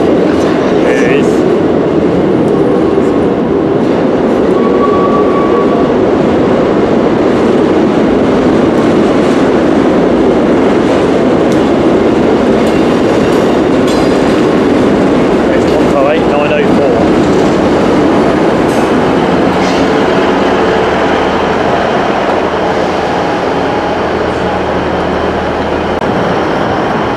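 A Northern passenger train pulling into a station on the Yorkshire Coast Line, a loud close rumble with rolling wheel noise and faint squeals that gradually eases as it slows, with a voice speaking over it.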